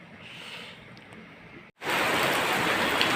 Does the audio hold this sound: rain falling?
yes